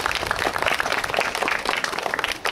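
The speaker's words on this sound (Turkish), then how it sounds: "alkışlarınıza sahneye davet ediyorum" Brisk, dense audience applause at a school ceremony as a staff member is invited on stage, many hands clapping close together at a steady, lively pace.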